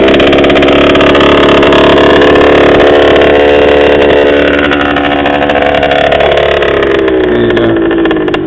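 A KTM 50 dirt bike engine screams loud and close in wet, slick mud, a high buzzing two-stroke whine held at heavy throttle, wavering in pitch as the revs rise and dip.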